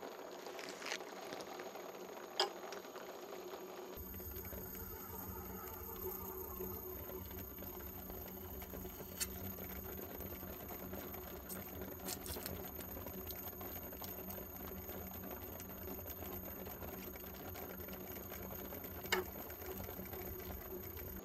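A sharpening machine grinding a Japanese sashimi knife gives a steady, quiet mechanical whir that starts a few seconds in and runs on with a couple of faint clicks.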